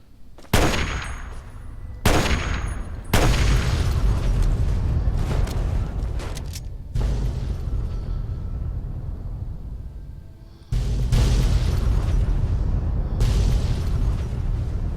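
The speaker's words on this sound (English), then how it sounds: "Yeah, once all the explosions are done." Explosions in the post-apocalyptic game Fallout 3, a chain of loud, close booms with long roaring, rumbling tails that sometimes cut off abruptly, sustained over about fifteen seconds.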